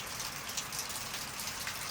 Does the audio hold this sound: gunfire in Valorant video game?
no